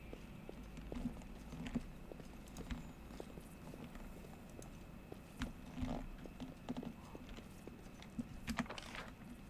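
Rhythmic clip-clop of video game horse hooves trotting steadily over a low background hum, moderately loud and continuous with occasional clicks.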